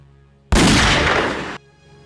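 A single loud gunshot sound effect, a sudden burst of noise about a second long that cuts off abruptly, heard alone and close.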